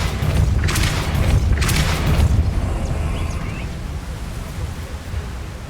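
A Depulso force spell cast in Hogwarts Legacy, a loud booming burst near the start followed by a second blast, then a fading rumbling tail over steady low game ambience.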